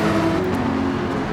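A GT3 race car at Bathurst in Gran Turismo 7, its engine humming loudly and briefly as it slides past another car after light contact, a short steady roar.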